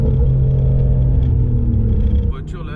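A Mercedes-AMG GT R in race mode, its exhausts opened wider, gives a deep, steady engine rumble with a throaty exhaust note. Someone talks over it, and near the end the drone drops back.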